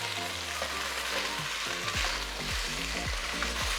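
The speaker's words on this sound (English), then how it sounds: "So I'm going to keep on stirring this until it turns golden brown" Food fries in a pan with a little oil during a home-cooked Ugandan dinner. A dense, close sizzle fills the whole stretch while a utensil scrapes and stirs in a steady series of rhythmic strokes.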